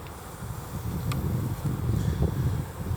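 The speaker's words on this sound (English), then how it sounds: "Some newly hatched bees." Honeybees buzz with a steady low drone while a frame is pulled during a hive inspection. The sound is continuous and close, and nobody talks.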